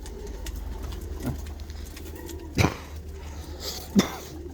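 A female Wolski pigeon coos close by, with a few short, separate low coos spaced over a few seconds against quiet background noise.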